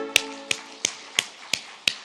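A church congregation claps in unison, six sharp, evenly spaced claps roughly a third of a second apart over a soft sustained musical drone.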